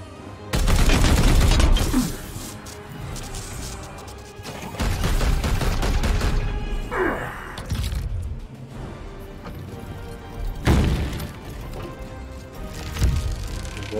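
Support-fire volleys in Warhammer 40,000: Chaos Gate Daemonhunters, several loud bursts of heavy gunfire and crashing impacts separated by quieter gaps, with a swooping whoosh between them.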